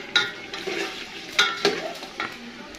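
Tomatoes, chillies and masala being sautéed in a pan, a spoon scraping and knocking against the pan several times over a steady sizzle, close by.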